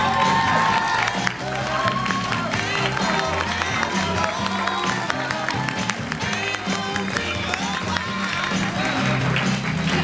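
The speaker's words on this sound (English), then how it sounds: "Can I have a massive round of applause, please?" An awards ceremony audience applauds steadily for about ten seconds, a dense wash of clapping and cheering blended with loud music in a hall.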